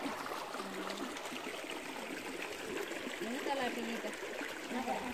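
A river flowing outdoors, a steady broadband rush of running water that stays even and fairly close throughout, with faint voices now and then underneath.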